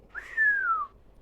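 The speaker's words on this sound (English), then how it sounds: "Dad whistled." A single short, clear whistle glides smoothly downward in pitch, close and isolated against near silence.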